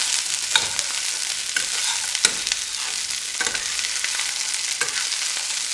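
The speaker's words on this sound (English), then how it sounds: "I'm going to add the green beans to this. So stir it." Green beans stirred in hot oil in a frying pan for beans palya, a constant loud sizzle broken by several sharp scrapes and clinks of the spoon against the pan.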